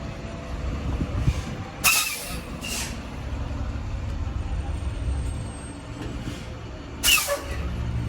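Air brakes on a Class A truck vent pressure inside the cab during a pre-trip check: two sharp, loud hissing bursts about five seconds apart, over a steady low engine idle.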